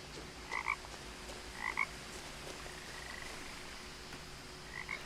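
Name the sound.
frog croaking in the video game What Remains of Edith Finch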